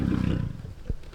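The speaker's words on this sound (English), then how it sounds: "A lion's roar is a normal thing to hear at Caddyshack Ranch" A deep, rumbling lion roar fills the start, throaty and close, fading into lower grunts with a short low burst near the end.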